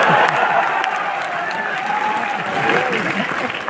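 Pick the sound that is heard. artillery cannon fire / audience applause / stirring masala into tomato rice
audience applause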